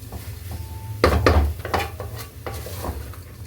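Rice, green peas, onion and tomato frying together for pulao, a soft sizzle under busy close stirring with clattering spoon scrapes against the pan, loudest in the middle, no voices.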